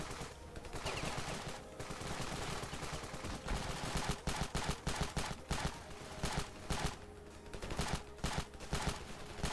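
Bot soldiers fire in the Ravenfield video game, rapid bursts of automatic gunfire and single shots crackling in sharp clustered volleys over a constant battle din, no talk.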